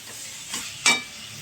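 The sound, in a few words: sautéing pointed gourd in spice paste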